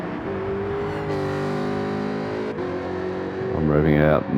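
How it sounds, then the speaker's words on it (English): Race car engine in Gran Turismo 7 during a Bathurst one-hour Group 3 race, holding a high steady rev near the limiter, then surging and climbing again at the end, loud and close, with a voice talking over it. "I'm revving out more than I wanted to as well."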